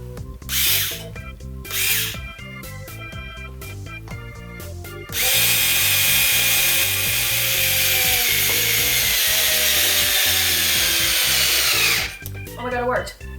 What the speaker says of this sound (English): So I have this dinky IKEA drill.